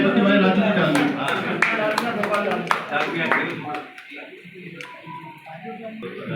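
Audience at an annual general meeting and felicitation ceremony breaks into loud, sharp clapping, dense at first and thinning out toward the end, with voices audible alongside.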